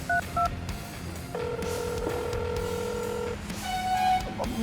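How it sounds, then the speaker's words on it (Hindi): A phone dialing a call: short dial tones, then a long steady tone, followed by another tone pattern, fairly faint over a low background hum with no talking. "मालिक को फोन करते।"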